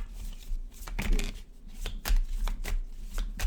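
Tarot cards being shuffled by hand, a run of quick crisp riffles and slaps at close range, steady and unbroken, with no talk.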